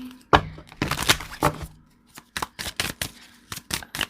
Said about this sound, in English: I'm going to get started on shuffling your cards